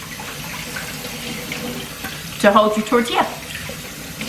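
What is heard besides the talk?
washing hands under running water from a tap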